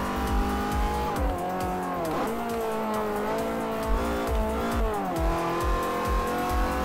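Race car engine in Forza Motorsport 4 revving hard through gear changes with rising and falling pitch, tires squealing in spots during a timed slalom with hypercars; loud and continuous, no talking.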